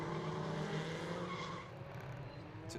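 National Legends race cars lapping the Anglesey circuit during a 10-lap heat, a dense, steady roar of engines at moderate distance with a faint tire squeal mixed in.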